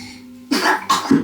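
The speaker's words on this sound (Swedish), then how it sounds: "Oj, vilken hosta." Two short coughs from a child, close by, the second slightly deeper, in an otherwise quiet room.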